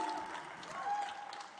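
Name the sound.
audience applause at a conclave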